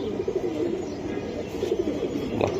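A Beji pigeon coos softly, a low repeated murmuring close by over steady background noise.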